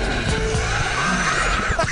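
A car sliding sideways on a wet track, its tyres squealing loudly and continuously beneath a strained engine note, the squeal rising and wavering across the slide.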